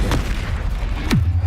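A Confringo spell blast in the Hogwarts Legacy video game booms loudly, with a sharp crack near the start and a second heavy blast followed by a deep rumbling tail, all close and dense.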